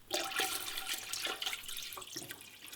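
Tap water runs steadily into a pot holding canning jars of cherry tomatoes, a continuous close splashing and gurgling that keeps going throughout with no talk.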